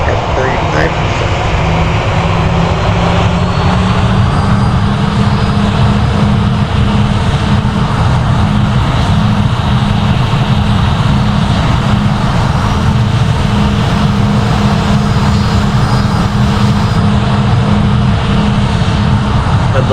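Engines of an Airbus A320 spool up during start in the Project Flight game, a loud, constant jet whine and drone filling the whole stretch with no break.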